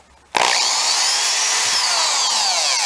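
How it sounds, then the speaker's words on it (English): A power drill starts abruptly and whines steadily and loudly, high-pitched and continuous as it bores about half an inch into the metal of an Alpha One Gen 2 stern drive bearing carrier, with no talking. "we're going to drill a hole"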